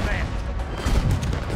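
Gunfire in the video game Red Dead Redemption 2 during a fort battle against a warship, a dense burst of shots and booms at close range, lasting under two seconds.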